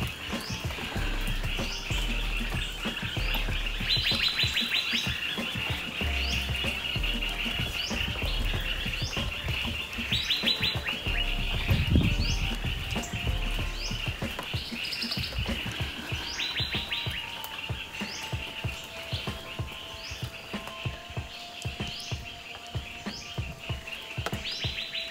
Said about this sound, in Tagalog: Mga birds.